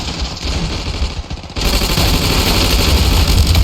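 Automatic rifle gunfire in the video game Ravenfield, set in World War I trenches, a rapid continuous rattle of shots that grows louder and denser partway through, with no talking.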